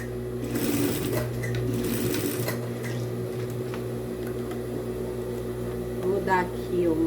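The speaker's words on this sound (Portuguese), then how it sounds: "Nós vamos fazendo o pesponto aqui em cima" A sewing machine runs steadily while topstitching along the edge of a lined wallet, a continuous mechanical hum with rapid needle chatter for several seconds and slight changes in pace.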